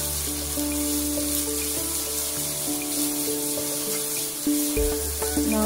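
Salted onions sauté in a pan for a steady, close sizzle alongside a low constant hum, with a brief clatter near the end and no talking.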